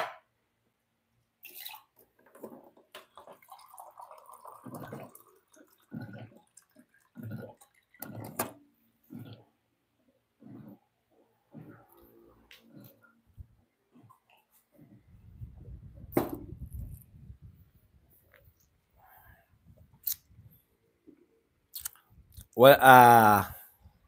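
Someone drinks water from a glass in a run of soft, evenly spaced gulps and swallows, with quiet gaps between them, then a few clinks and breaths, and a person talks briefly near the end.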